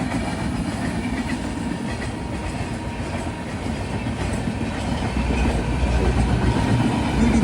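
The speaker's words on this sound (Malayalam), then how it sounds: "രാമേശ്വരം ഭുവനേശ്വർ എക്സ്പ്രസ് ആണ്." The Rameswaram–Bhubaneswar Express rolls past with a steady, moderately loud rumble and rhythmic clickety-clack of wheels over rail joints, continuous throughout with no voices.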